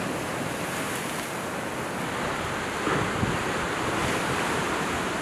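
Ocean waves surge into a volcanic rock cove along the Baja coast, a dense continuous roar of surf mixed with gusting wind buffeting the microphone, slightly swelling near the three-second mark.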